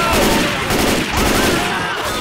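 A flame sentry firing in Left 4 Dead 2 makes a loud, dense, continuous crackling barrage with steady rattling pulses, lasting a couple of seconds.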